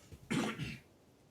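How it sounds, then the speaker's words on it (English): A single throaty cough bursts out close and fairly loud, with a short rough tail, heard alone without talk. "I need to cough off mic again."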